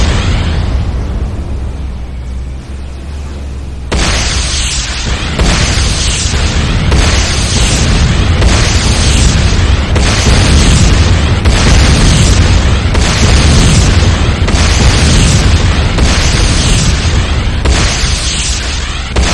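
A GDI Tiberium Refinery explodes in the video game Command & Conquer: Renegade, giving loud booming blasts that settle into a sustained, dense rumble of repeated explosions and debris that fills the whole stretch.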